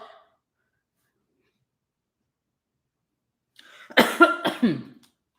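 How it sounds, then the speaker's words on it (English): A short burst of harsh coughing, several quick hacks close together, after a long silence with a faint breath at the very start. "when I talk too fast, I start coughing"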